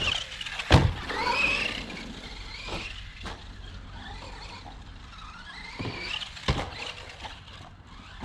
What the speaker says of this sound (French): Alors freinage sur glissant à fond.